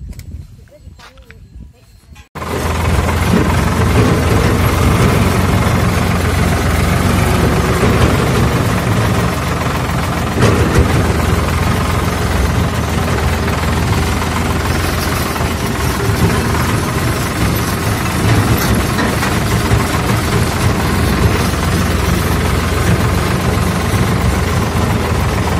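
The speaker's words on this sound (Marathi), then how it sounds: "ट्रॅक्टर आलं ना" A farm tractor rumbles to life and idles close by at a village millet harvest, a loud, steady low engine drone with knocking vibration that continues throughout, with some talk over it.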